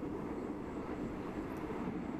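An economy-class train carriage rolls toward Bangkok at night, a steady low rumble and rattle of the wagon on the rails that carries on without a break.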